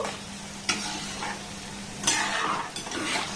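Ball-shaped palm fruit (taal) pithas fry in hot oil with a soft, steady sizzle, broken by a few sharp scraping strokes as a spoon turns them in the pan, with no talking.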